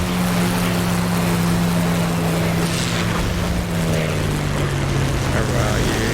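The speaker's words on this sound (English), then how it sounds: "can you hear how high the engine's revving" A Spitfire Mk IX piston engine in the DCS World flight simulator revs high and damaged, a loud continuous drone with a steady pitch that dips slightly midway, filling the whole clip.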